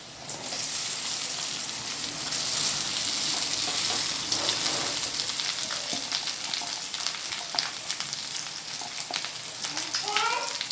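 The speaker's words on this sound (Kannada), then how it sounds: "ಈಗಿದು ಫ್ರೈ ಆಗತ್ತೆ" Garlic frying in a pan for a spicy garlic lemon rice dish, a steady close sizzle with scattered crackles and light scraping as it is stirred.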